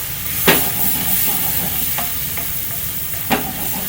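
Dried masalas frying in oil for lamb rogan josh, a steady close sizzle with a few sharp spoon scrapes and stirring knocks cutting through.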